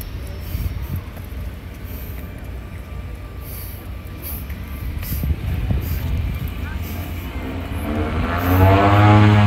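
At the Vancouver waterfront by Canada Place, a seaplane taxis on the water, its propeller engine droning steadily under city noise and swelling louder toward the end, with a voice speaking.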